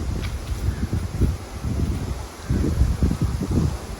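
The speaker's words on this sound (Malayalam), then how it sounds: "നല്ല കാറ്റ്, നല്ല കാറ്റെന്ന് വെച്ചാൽ നല്ല കാറ്റ്, നല്ല മരങ്ങളും നല്ല കാറ്റും" Strong wind gusting outdoors through trees, a steady broad roar with rustling surges that rise and fall in waves, loud and close to the microphone with buffeting noise.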